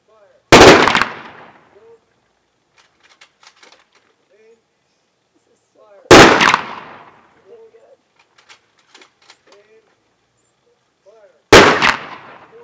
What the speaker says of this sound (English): Rifle Squad, salute our fallen comrade!